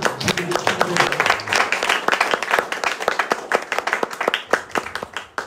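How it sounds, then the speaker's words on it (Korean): Audience members at a lecture gathering clap in scattered, sharp individual claps rather than a full ovation, moderately loud and irregular throughout, with speech mixed in. "왜 혼자만 박수를 치세요?"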